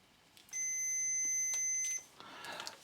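A multimeter on continuity mode gives a single steady electronic beep lasting about a second and a half during garage wiring work, followed by faint handling noise.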